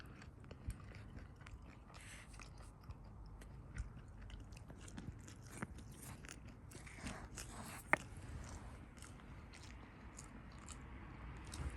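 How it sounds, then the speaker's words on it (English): Someone bites and chews crunchy tofurky close to the mic, giving a long run of irregular crisp crunches and clicks, one sharply louder, over a quiet background. "The best part with this tofurky is how crunchy it tastes"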